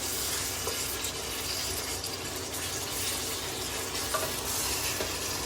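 Mutton cooks with satkora in a pan, a continuous loud sizzle with scraping and stirring throughout and no voices.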